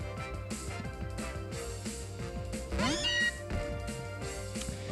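Meowth's cry in Pokémon Moon: a short, rising electronic meow over looping, rhythmic battle music that continues steadily before and after it.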